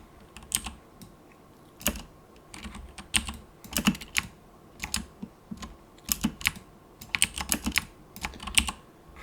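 Keys clack on a computer keyboard in uneven bursts, with heavier spacebar thumps mixed among the lighter taps, close and fairly quiet against a low background hiss.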